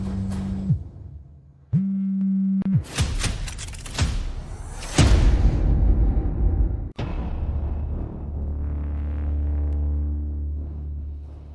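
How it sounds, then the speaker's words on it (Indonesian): An incoming-call ringtone sounds on a phone in a dramatized office scene, with tonal ring bursts at the start, then clattering and a thud, followed by a sustained layered tone. "Seseorang memanggilmu."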